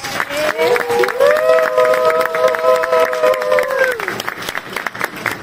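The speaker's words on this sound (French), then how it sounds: "On peut l'applaudir très fort" A forum audience in Paris applauds loudly for a speaker, a busy crowd clapping with some cheering while a prominent voice rings out over the top before the clapping thins.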